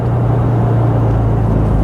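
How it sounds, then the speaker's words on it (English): A modified 1960 Bugeye Sprite sports car at about 50 mph, its engine and exhaust giving a steady, loud, low droning hum inside the moving car, with no speech. "So nice noise, nice exhaust note. Kind of like a sports car should sound"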